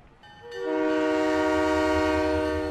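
A train horn sounds as a train departs a station in Halo 3 ODST, blaring in one sustained, loud harmonic tone that swells in within the first half second and then holds steady under a low rumble.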